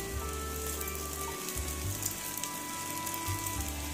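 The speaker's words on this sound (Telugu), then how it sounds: "మన దగ్గర ఉన్న బ్రెడ్ అంతా ఇలానే కాల్చుకుందాము." Bread slices frying in a pan with ghee for double ka meetha, a steady close sizzle with soft crackling and faint clinks of the pan, no talking.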